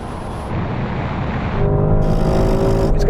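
Several high-performance vehicles, a Porsche Turbo GT among SUVs, launch together in a drag race, giving a loud, steady engine roar that builds and thickens as they accelerate, with no talk.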